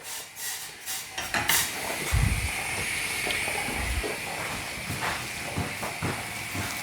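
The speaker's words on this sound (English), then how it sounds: "My yeast is just starting to come to the boil." A pot of yeast and honey mixture for mead heating on a stove as it starts to boil, giving a steady close hiss with faint clinks of pots and utensils and a few low bumps.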